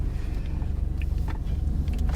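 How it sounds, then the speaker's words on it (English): A fire truck drives past on a road, a steady low engine and tyre rumble with a few faint higher clanks, fairly close and continuous without speech. "there goes a fire truck, you know. Of course, fire truck right past me."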